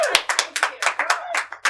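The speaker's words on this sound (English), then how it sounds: "Round of applause to George." A few people clap in a film talk studio, roughly a dozen distinct, spaced claps heard close and clear over about two seconds.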